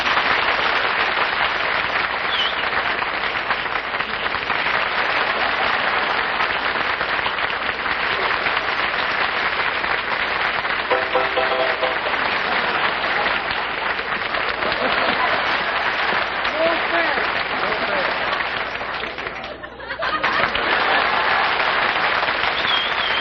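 A studio audience breaks into sustained, loud applause for a jam session on a radio comedy show, dense clapping running nearly the whole time with a brief dip near the end.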